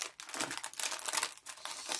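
Plastic packaging crinkles and rustles in close, irregular bursts, quiet and dry, with no voices.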